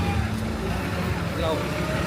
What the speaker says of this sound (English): Garbage truck. It's garbage truck.